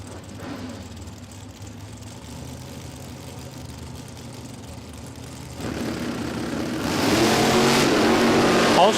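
Drag racing cars idling and revving at a Queensland drag racing championship, then two cars launching down the strip with a swelling roar that grows louder toward the end.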